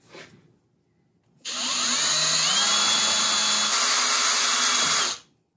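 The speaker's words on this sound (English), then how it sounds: "with the hole drilled" A brief faint noise, then an electric drill with a 1/8-inch bit whirs up loudly, drilling a hole in a VW Mk1 steering column part, running steadily for several seconds before cutting off abruptly.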